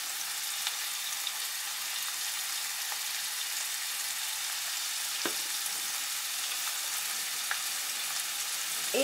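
Ingredients seasoned with pepper, cumin and salt sautéing in a pan for a Peruvian meat empanada filling, giving a steady, even sizzle close by with a few faint clicks of stirring and no talk.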